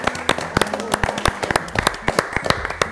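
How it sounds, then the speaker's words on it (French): An audience claps for the winner of a savory pie baking contest, sharp, irregular handclaps close by, sustained for a few seconds. "on peut l'applaudir vraiment"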